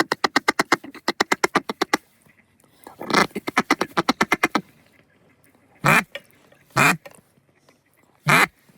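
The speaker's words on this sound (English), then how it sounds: "We can hear a hen, mallard, or black duck piping off behind us" Mallard or black duck hen quacking in rapid descending series, then a few longer isolated squawks, sounding somewhat distant behind the listener outdoors with a group of ducks on the water.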